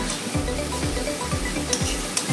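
Raw onion and green chillies sauté in a pan, giving a steady sizzle with a repeating scrape of stirring about every half second, close and fairly loud, with no talking.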